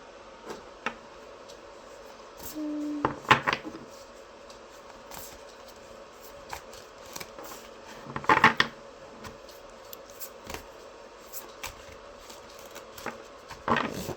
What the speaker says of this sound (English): These do not want to shuffle today.